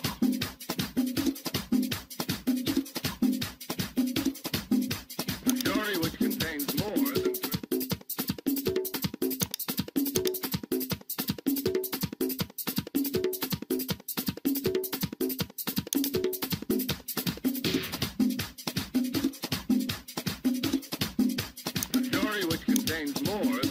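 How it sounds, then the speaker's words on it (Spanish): A dance track plays in a Virtual DJ 2018 mix, driven by a steady, evenly spaced thumping beat with layered tones on top, continuous and fairly loud for over twenty seconds with no talking. "Entonces vamos a arrancar con la primera canción y suena así."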